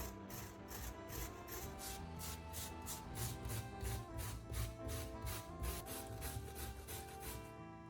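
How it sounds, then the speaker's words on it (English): Beets are shredded into thin strips, a steady, rhythmic rasping and scraping that repeats at an even pace, close and fairly faint, with no talking. "Wash thoroughly, then either shred them into thin pieces or slice them thinly"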